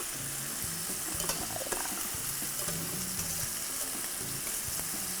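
Spiced cinnamon meatballs sizzle quietly in a pan as they are turned, a soft steady frying hiss with a couple of faint clinks.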